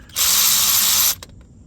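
A power tool, likely an impact or drill driver, spins a 13 mm bolt off the starter of a 2009 Chevy Equinox 3.4 liter in one loud, steady whir lasting about a second, followed by a couple of faint clicks.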